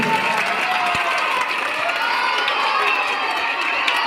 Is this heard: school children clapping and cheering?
yes